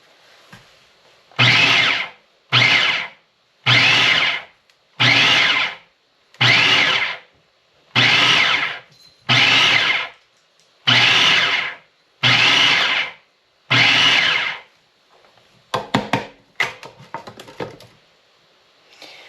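A food processor pulses butter and flour into a pie crust, about ten loud, evenly spaced bursts of motor whir, each roughly a second long with brief silences between, followed by softer rattling and clattering.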